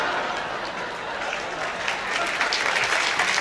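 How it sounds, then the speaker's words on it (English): Audience applause fills a Las Vegas showroom at a 1966 performance at the Sands, a steady dense clapping that swells slightly toward the end, with no voice over it. "Wait, don't applaud that."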